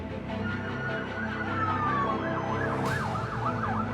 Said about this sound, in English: Ambulances rushed into the camp